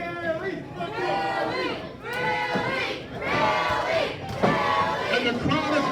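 A wrestling crowd at a tag-team gauntlet match roars and chants in loud rising waves, dense with overlapping shouting voices throughout.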